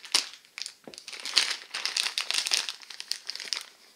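Plastic crinkles and rustles in close, irregular bursts as a bag is handled and pulled open, loud and crisp with no talking.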